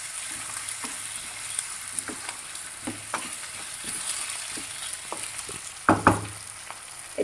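Pork frying in a pan for gravy, a steady oily sizzle with scattered pops and stirring scrapes, one louder clatter near the end, no talking.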